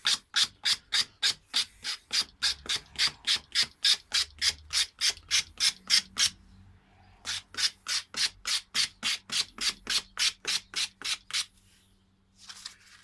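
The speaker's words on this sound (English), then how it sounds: "if you look where I've been sanding" Rhythmic rasping strokes of a pool cue tip being sanded by hand on sandpaper, close and even, about two per second, with a short pause midway.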